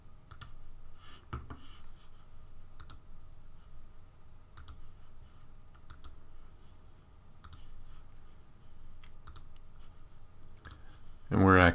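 A computer mouse clicks in Photoshop Elements with the Magic Eraser tool: a series of sharp, isolated clicks spaced a second or two apart, quiet and close, over faint background hiss.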